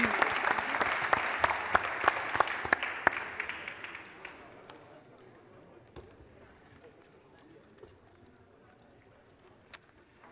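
An audience applauds at an amateur competition, loud at first and then gradually thinning out, leaving only a few scattered claps that fade into a quiet room.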